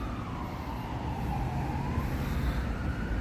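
Ambulance siren on a street in Burnaby, heard as a steady wailing tone over continuous road traffic, moderately distant and sustained throughout with no voices.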